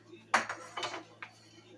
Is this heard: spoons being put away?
yes